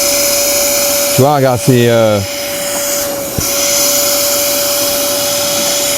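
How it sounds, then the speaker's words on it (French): A Karcher SE3-18 cordless spray extractor runs in suction-only mode with no cleaning product, a steady loud whining drone throughout, while a person speaks briefly over it partway through. "Là, j'envoie pas de produit, je fais juste aspirer."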